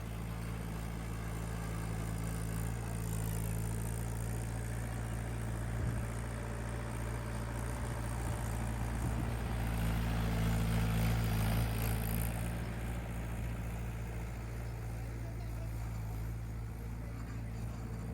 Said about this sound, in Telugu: మడి దున్నడానికి ట్రాక్టర్ వచ్చిందనమాట